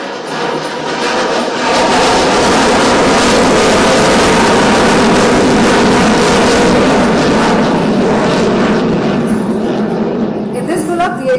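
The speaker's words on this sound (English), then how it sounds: "the light combat aircraft Tejas graciously gliding in front of you" A Tejas light combat aircraft jet flies past at an Indian Air Force anniversary air show, giving a loud, sustained broadband roar that fills the whole stretch and eases slightly near the end.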